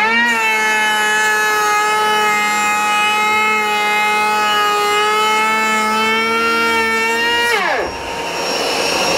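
A starter motor on a weak battery cranks the engine of a Barrelback boat, making a loud, steady whine that sags slightly and then drops off sharply near the end.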